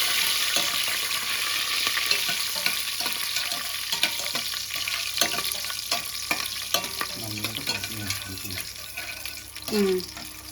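Whole spices and a bay leaf frying in hot oil in a pan for vegetable pulao, a steady crackling sizzle with occasional stirring clatters and light kitchen sounds, close and continuous.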